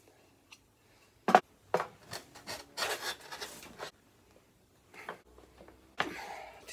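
A Saker chamfer plane dragged over a piece of hardwood, making a few scraping, scratchy strokes that start and stop irregularly between quiet pauses, close and fairly loud.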